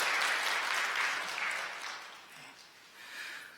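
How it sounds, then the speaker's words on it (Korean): Church congregation applauding during a Sunday worship service, a dense burst of clapping that swells at once and thins gradually over a few seconds, ending in a smaller flurry. "잘 다녀오시라고 박수 부탁드립니다"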